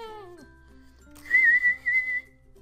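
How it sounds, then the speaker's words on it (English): A life vest safety whistle blows a few sharp, steady shrill blasts in close succession, loud and near, following a brief low hum with no talking. "Use the whistle on your life vest to call for"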